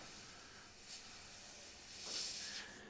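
An airbrush sprays paint while bone textures are built up on a realistic skull, giving a faint, steady hiss that swells softly a couple of times, with no voices.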